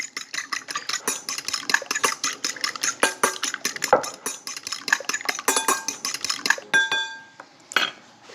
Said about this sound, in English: Let's whisk them.